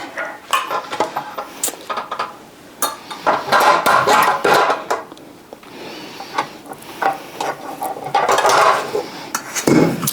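Thick keto bread batter scraped and knocked into a pan, with repeated clanks and scrapes of a utensil against the pan and bowl, loud and close, in irregular bursts.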